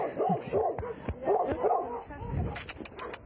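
Sled dogs barking and yipping in a busy outdoor chorus, a mix of several dogs at moderate distance with overlapping barks and whines throughout.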